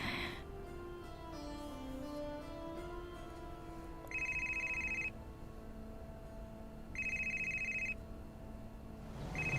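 A phone rings on an outgoing call, its electronic tone sounding in two long bursts with a pause between them over a soft music backdrop, fairly clear and with no talking.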